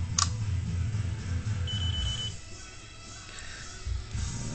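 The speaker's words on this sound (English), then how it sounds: "Okay, 5 beeps, you're ready to go." A short series of five high electronic beeps from an Arduino-based combination lock starting up sounds near and clear over a low background hum, with no talking.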